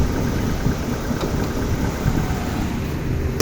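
A 1999 Nissan Sunny Super Saloon 1.6 engine with automatic transmission idling steadily nearby, a low continuous rumble with a faint mechanical hum and no voices.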